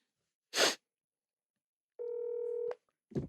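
A telephone being dialed, a short burst of steady touch-tone beeps between brief noises, clear and close with no talking.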